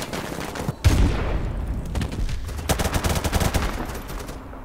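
Call of Duty team deathmatch gunfire: a sharp shot, then sustained rapid automatic fire with scattered shots and distant rattles, loud and close throughout.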